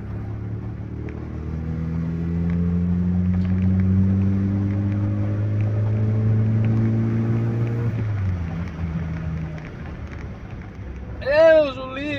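A Fiat Uno drives along the road, its engine droning steadily with a rising pitch as it accelerates, then easing off near the end, with wind rushing past and a brief burst of voices close by.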